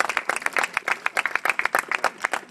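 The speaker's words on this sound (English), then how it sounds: "let us, one more time, just give the organization and its leadership a big, big round of applause" Audience at a mayoral event giving an organization and its leadership a round of applause, dense, close clapping with many overlapping hand claps in a lively, uneven rhythm throughout.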